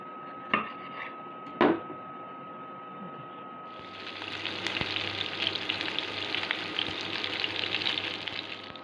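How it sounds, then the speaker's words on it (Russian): Two sharp knocks, then red pepper strips hit a hot pan and a steady crackling sizzle of frying continues close up, with no talking. "Красный перец нарежу такими широкими полосками и тоже обжарю очень-очень"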